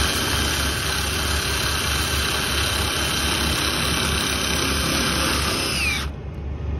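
A steady, loud engine drone runs without a break from a heavy machine hauling steel coil, shifted through the gears, then cuts off abruptly near the end.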